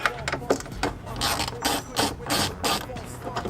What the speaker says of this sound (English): we're going to pull these two Torx screws out